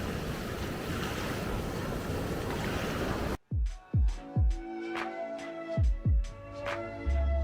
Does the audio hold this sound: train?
no